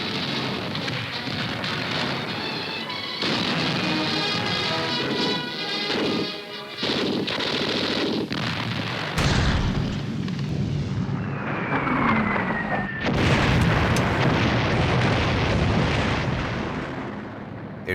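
Intense WWII battle near Bayeux with German tanks, assault guns and self-propelled artillery firing in a counterattack, heard as a dense, continuous roar of crashing blasts and rumbling that surges louder midway, with no voices.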